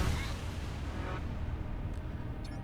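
Grenade launcher blasts in the grimdark space game Void War: a dense, rumbling low roar with steady loudness and a few faint high clinks near the end.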